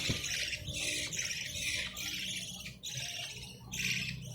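Pet parakeets at feeding time squawk loudly in a busy, overlapping flock, harsh shrill calls rising and falling in repeated bursts close by.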